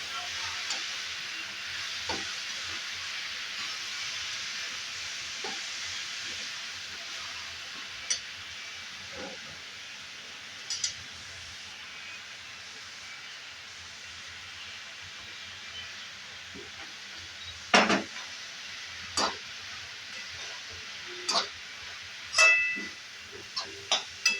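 Spinach cooking straight in a garlic tempering gives a steady, soft sizzle and hiss throughout, broken by a few sharp clinks and scrapes of stirring near the end.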